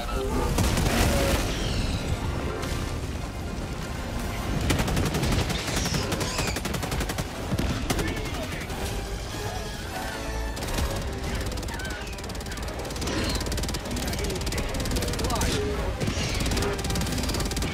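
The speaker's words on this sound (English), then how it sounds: "Okay, everyone, right here is a great spot to stand for shooting these bugs out." Dense, continuous gunfire in Helldivers 2 as players shoot bugs pouring out of a tunnel breach, rapid automatic bursts and booms overlapping loudly throughout with a voice occasionally audible.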